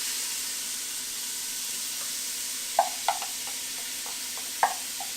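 Onion sautés in oil in a pan for leek soup, a soft, steady hiss broken by a few light taps and clicks from stirring.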